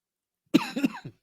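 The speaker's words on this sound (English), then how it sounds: "I coughed" A single close, sharp cough from a man, one brief burst that breaks an otherwise quiet moment, with no talk around it.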